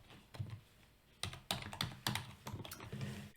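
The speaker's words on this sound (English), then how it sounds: "I'm going to type this one in" Rapid typing on a computer keyboard while entering a spreadsheet lookup formula, a close run of crisp clicking keystrokes that starts sparse and then speeds into a steady patter.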